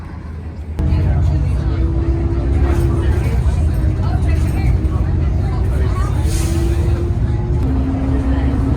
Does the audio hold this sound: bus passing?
yes